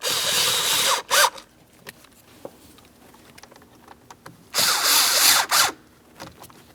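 A power tool snugs up Torx screws while a combination switch is replaced on a Ford Transit 250, with two short bursts and then a longer whir near the end, separated by quiet handling noises.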